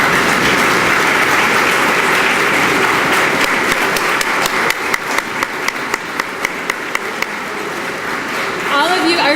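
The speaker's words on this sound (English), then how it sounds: "we'd love to give you a round of applause" A standing audience at a business incubator's 10-year celebration gives board members, mentors and staff a sustained round of applause, loud and continuous, with a few sharper individual claps standing out and a voice starting up at the end.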